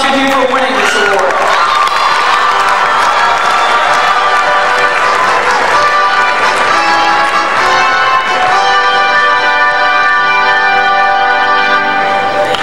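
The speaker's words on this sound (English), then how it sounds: "Let's give those award winners one more round of applause" A conference audience gives loud, sustained applause and cheering for award winners, a dense crowd roar with whoops and shouts running continuously throughout.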